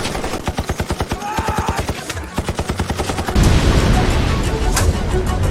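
Battle sound effects of German artillery and heavy gunfire: rapid, evenly spaced bursts of automatic fire, then a dense roaring barrage of explosions and shots, loud and close, with a sharp blast near the end.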